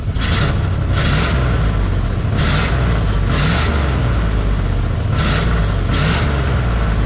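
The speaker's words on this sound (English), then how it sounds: "we do got a little bit of a belt squeal" An old squarebody truck engine runs steadily with a high, raspy belt squeal that rises in repeated short bursts over the continuous rumble, loud and close.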